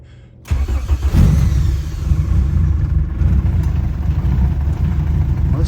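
Turbocharged B18 engine in a boosted Honda Civic hatch cranks and catches after a brief quiet start, then settles into a loud, steady rumbling idle close by.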